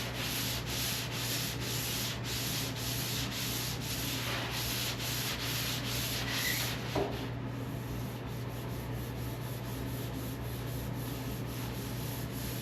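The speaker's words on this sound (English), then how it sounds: "I am using 400 grit" Continuous hand sanding with 400 grit sandpaper on a 1946 Ford steel hood under guide coat, a steady rhythmic scratchy rubbing of repeated back-and-forth strokes, close and moderately quiet, with no talking.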